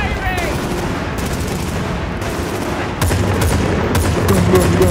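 Sustained automatic gunfire in the video game Battlefield Bad Company 2, loud rapid bursts overlapping into a continuous barrage that intensifies toward the end.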